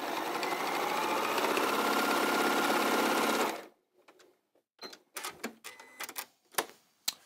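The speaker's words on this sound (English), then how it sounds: "And all I do is I now sew down this line over here. Just doing a normal 1/4 inch seam down there." A sewing machine runs steadily for about three and a half seconds, stitching a quarter-inch seam on quilt block fabric, then stops and leaves a few soft handling clicks and rustles.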